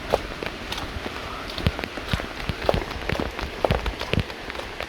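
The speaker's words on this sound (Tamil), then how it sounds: "மழை இறங்கிட்டு இருக்கு." Rain falls on a mountain path in Kerala, a soft steady patter dotted with scattered sharper drops, faint and continuous with no voices heard.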